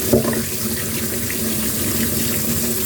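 Water pours steadily from a kitchen faucet while ginger is rinsed under it, a close, even rushing splash with no talk.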